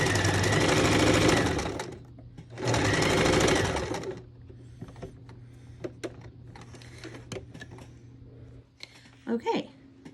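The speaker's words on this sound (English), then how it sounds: "I'll line up these edges and sew down" Close, loud bursts from a sewing machine joining fabric pieces: two runs of stitching followed by quieter handling clicks and brief rustles, with no one talking over the machine.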